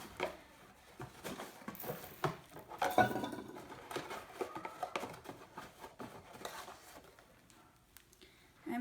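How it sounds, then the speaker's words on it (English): Borax granules sprinkled over a pinned pheasant skin, a faint scattered patter of light ticks and small rattles from the container, irregular and close, with no talking. "we're going to sprinkle borax over the top just to kind of give it an extra assurance of drying out"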